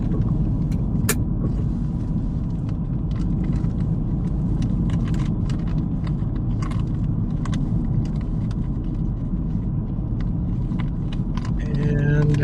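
Interior road noise in a moving car at night, a steady low rumble with occasional clicks and rattles, and brief talk near the end.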